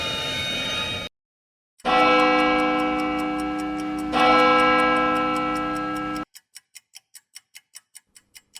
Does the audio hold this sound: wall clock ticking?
yes